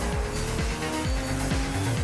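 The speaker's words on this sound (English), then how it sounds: "the noise of my car has changed now that it's upgraded" An upgraded car engine in the video game Midnight Club: Los Angeles, a steady mid-loud drone with rapid repeated rising shift sweeps under a wash of road and tire noise, with no talk.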